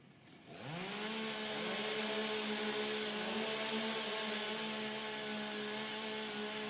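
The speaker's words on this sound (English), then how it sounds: "warm up your saws" Chainsaws at a STIHL Timbersports competition rev up from quiet into a loud, sustained whine with a steady engine drone that holds near and constant throughout.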